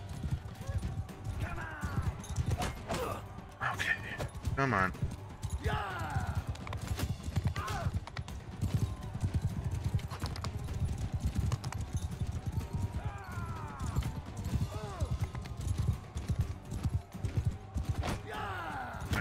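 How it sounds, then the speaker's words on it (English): Horse hooves drum in a rapid, continuous gallop in Mount and Blade 2: Bannerlord, close and loud throughout, with occasional metallic clanks and a brief spoken line. "Let's take it on this horse."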